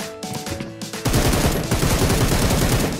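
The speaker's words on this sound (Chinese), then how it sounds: "马路对面 M4 枪声击杀了一个独狼" M4 rifle gunfire in the game Peace Elite, a rapid automatic burst of loud shots with the rattle of fast repeated rounds, coming in after a brief stretch of quieter in-game sound.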